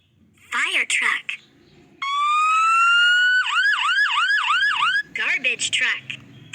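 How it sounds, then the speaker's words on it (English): Fire truck siren starting with a long rising wail, then switching to a fast warbling yelp, loud and near, with a person speaking before and after the siren. "Fire truck."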